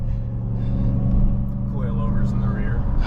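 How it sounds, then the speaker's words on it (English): Supercharger whine and engine rumble from a Ram 1500 TRX pickup while driving, a steady low drone with a faint tonal hum running underneath. "That supercharged whine, man."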